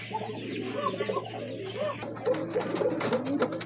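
Several pigeons at a Bangladeshi pigeon seller's loft, including pairs of Super Mili pigeons, coo in overlapping low rolling calls close by, with flutters and a brief burst of brighter rustling partway through.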